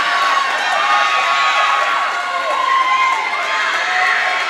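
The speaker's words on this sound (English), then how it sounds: "And a very enthusiastic crowd on hand." An enthusiastic crowd cheers and shouts steadily at a boys' and girls' varsity high school swimming meet, a loud continuous roar of voices echoing around an indoor pool.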